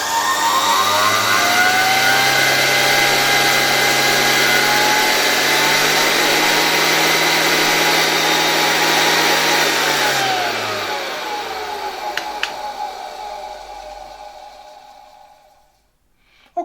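A 1978 Zelmer type 95 vacuum cleaner motor runs steadily at high speed with a whining turbine tone, then winds down and fades toward silence near the end, with no voices.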